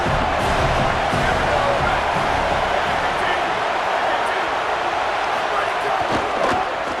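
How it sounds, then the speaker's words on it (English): A stadium crowd in EA Sports College Football roars in a dense, loud, unbroken wash that holds steady for the full seven seconds. "This crowd knows when to bring it."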